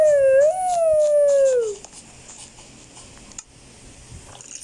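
A Minecraft dog lets out a single loud, drawn-out howl that wavers slightly before fading, followed by quiet game sounds with soft ticking.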